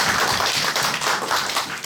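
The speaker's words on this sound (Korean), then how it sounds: "하나님 앞에 다시 한번 영광과 감사의 박수를 올려드리겠습니다." A church congregation claps in praise at its first thanksgiving Sunday service in a new worship space, a brief, dense burst of many hands clapping together at close range.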